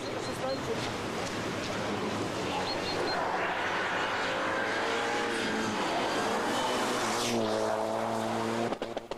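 Mitsubishi Galant rally car on a stage of the 1989 Circuit of Ireland rally, its engine roaring loud and close, rising and falling in pitch as it passes, with a commentator talking over it throughout.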